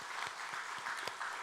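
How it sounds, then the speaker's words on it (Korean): Church congregation applauding to welcome a new member during a Sunday morning service, a steady burst of clapping from many hands lasting the whole moment. "저희에게 박수로 환영하겠습니다"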